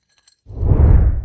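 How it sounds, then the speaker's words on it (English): A bar spoon stirs ice inside a glass, producing a close, swelling rush of rattling and clinking that starts abruptly and continues steadily, with no talking. "While stirring, let the back of the spoon glide against the inside walls of the glass. The ice helps keep the spoon in place as you stir."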